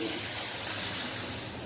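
Water gushes steadily into a cooking pot for chicken pulao, a close, continuous pour lasting the whole moment without any voice.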